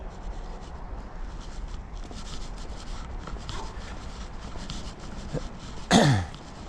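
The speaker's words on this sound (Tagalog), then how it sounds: "lihahin ko yung varnish niyan" Wood being sanded by hand to strip off old varnish, a steady gritty rubbing up close, followed near the end by a cough.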